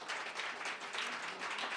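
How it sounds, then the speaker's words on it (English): An audience applauding at the 2022 Metropolitan Wilmington Urban League Annual Meeting, with steady, fairly faint clapping from a crowd in a large room. "Give them a round of applause, please."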